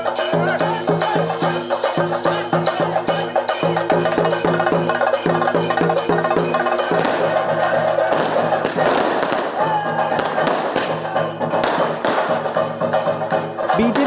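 Firecrackers bursting at a celebration outside the BJP state committee office in Thiruvananthapuram: a dense, continuous rattle of rapid loud cracks and pops that barely lets up, with a crowd faintly audible beneath.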